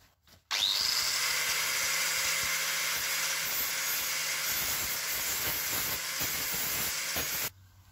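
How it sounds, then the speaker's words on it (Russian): A grinder with a grit 40 flap disc spins up and sharpens a homemade hoe or flat cutter: a loud, steady, harsh abrasive whine lasting about seven seconds before cutting off abruptly. "Следующая заточка лепестковым шлифовальным кругом зернистостью R40."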